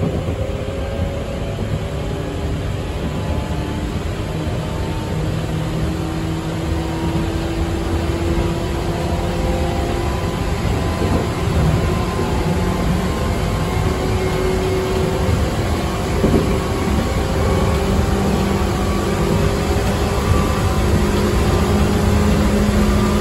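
Inside an old Tokyu 8500 series commuter train from 1976 as it accelerates, a loud continuous rumble of running gear topped by rising and shifting motor whine tones across the whole stretch.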